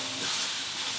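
Steady, loud hiss and sizzle of a small splash of water hitting a hot pan where carrots and leftover blended spice paste are frying for fried rice vermicelli, continuous and close with no voices.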